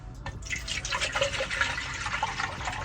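Bottled water is poured into a pot, a steady close splashing and gurgling stream running throughout with small drip-like spatters, alone without talking.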